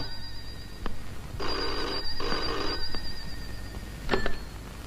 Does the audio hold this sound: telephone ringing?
yes